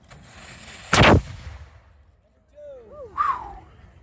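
A historical cannon fires at a Fort Klock 4th of July celebration, one loud, sharp close boom that rolls off quickly, followed by crowd voices and exclamations.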